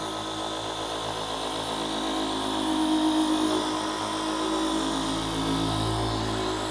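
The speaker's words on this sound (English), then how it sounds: "I like the stroke on this 15 millimeter DA." A 15 mm dual action polisher running continuously with a steady droning whir and a slowly wavering pitch as the pad works over a surface during compound and polish work.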